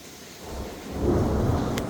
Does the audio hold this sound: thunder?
yes